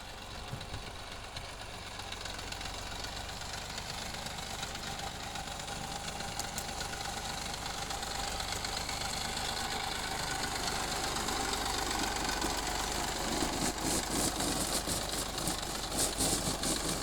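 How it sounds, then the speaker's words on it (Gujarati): A tractor loaded with stones rumbles in at a village building site, its engine idling and knocking steadily throughout, loud and continuous with a rising rattle toward the end. "આ બીજું ટ્રેક્ટર મંગાવ્યું તો એ પણ પાણાનું ભરીને આવી ગયું છે"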